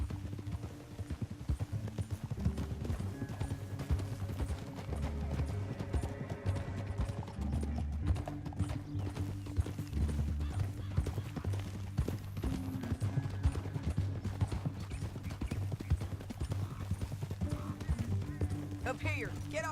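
Rapid rhythmic hoofbeats of horses galloping steadily in Red Dead Redemption 2, close and continuous across the whole stretch under a low musical score, with occasional snorts and voices talking over the ride.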